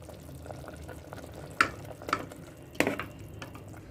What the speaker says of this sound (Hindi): और अब इसको पकने देंगे अच्छे से जब तक कि इसकी ग्रेवी डिज़ायर्ड कंसिस्टेंसी की नहीं हो जाती।